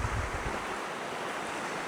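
Wind gusts roar steadily over the open shore of a small mountain lake ringed by trees and white rocks, a constant broadband rush with low buffeting at the microphone and no voices.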